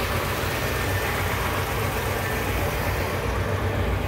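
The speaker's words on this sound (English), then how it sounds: "this car is powered by a 390 V8. It runs as good as it looks" A 1962 Cadillac Series 62 convertible with a 390 V8 idles steadily on its own, a continuous low, even rumble that holds without change throughout.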